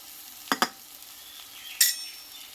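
Turmeric and salt go into a pan of spices being fried for a pumpkin-stem dish, with a faint background sizzle broken by a few sharp scrapes and clinks of a spatula. No one speaks.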